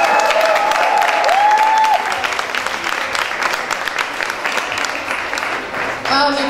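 Dense applause from an audience at an album launch event, steady broadband clapping filling the room with crowd noise and a sustained voice tone early on, continuing throughout.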